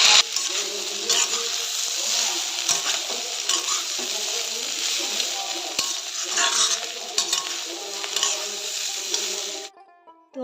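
Potatoes and cauliflower frying in a pan, a loud continuous sizzle with repeated stirring scrapes and clinks of a spatula, close up, cutting off abruptly near the end.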